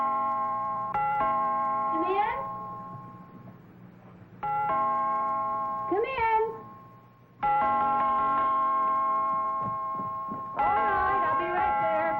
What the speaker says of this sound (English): We're just fixing the door chimes.